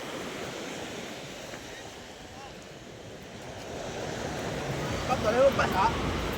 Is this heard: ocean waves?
yes